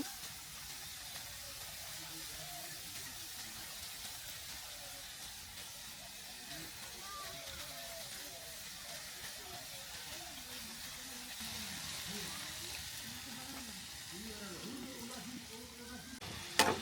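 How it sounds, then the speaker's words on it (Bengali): Singaras deep-frying in hot oil, a soft continuous hiss and bubbling that holds steady and fairly faint throughout, with a brief clatter at the very end. "আমি উল্টিয়ে পাল্টিয়ে ভালোভাবে সিঙ্গারাগুলো মুচমুচে করে ভেজে নিব।"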